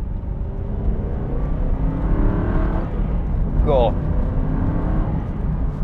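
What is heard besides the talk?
Aston Martin V8 Vantage exhaust accelerating after downshift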